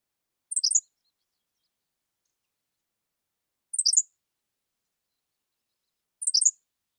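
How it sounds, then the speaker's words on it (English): Three short, high, thin Henslow's sparrow calls from a bird low in thick grass, each a quick clipped two-part note, evenly spaced about three seconds apart in otherwise total silence. "Also, there's Henslow sparrow."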